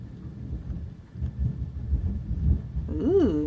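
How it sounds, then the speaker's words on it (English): Distant thunder rolls as a low, soft rumble for a few seconds indoors, fading in and out before a short vocal exclamation rises at the very end. "Ooh, do you hear the thunder?"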